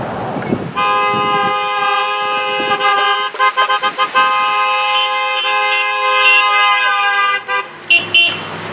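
Loud, sustained horn blasts blare for several seconds, overlapping tones with choppy bursts near the end, like vehicles honking together close by.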